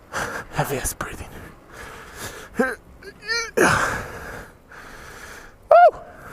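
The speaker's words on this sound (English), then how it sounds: "Heavy ass breathing." A person breathes heavily, with sharp, uneven snorts, gasps and wheezy breaths that come and go, each close and loud and broken by short pauses.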